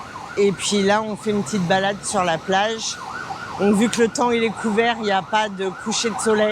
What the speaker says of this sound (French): Là, il y a une ambulance qui passe